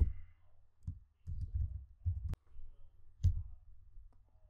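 Quiet computer mouse clicks while working in Microsoft Visio, a handful of soft, crisp taps spaced unevenly at close range.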